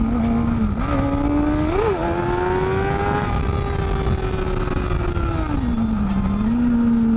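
A 2008 Kawasaki ZX6R motorcycle being ridden, its engine droning steadily with rising and falling pitch as it revs through gears, with constant wind rush, close and loud throughout.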